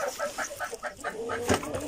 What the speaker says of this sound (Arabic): هذه الدجاجات التي بقيت عندي، دجاج البراهمة